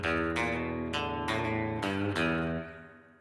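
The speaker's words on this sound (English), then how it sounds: "That's the highest level you can get of spring reverb." 1964 Telecaster guitar through a Line 6 Pod Express set to maximum spring reverb, a few strummed chords ringing with a wet, splashy tail that fades out at the end.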